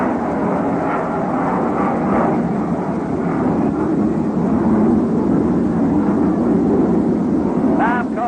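At a Mets vs Cubs ballpark, an airplane roars steadily overhead as a loud, continuous broadband rumble that masks the crowd throughout.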